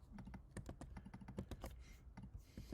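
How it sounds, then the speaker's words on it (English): Fingers type a short search phrase on a computer keyboard, a quick run of distinct, light key clicks in an uneven rhythm, close and quiet, with no talking. "So if we just type in pantry cabinets"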